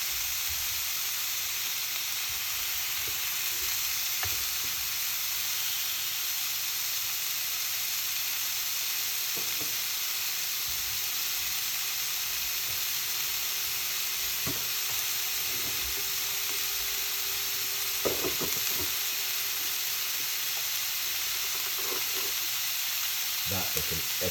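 Salmon searing in a hot pan gives off a loud, steady, broadband sizzle that runs unbroken throughout, with a few faint stirring or shifting sounds near the end and no voices.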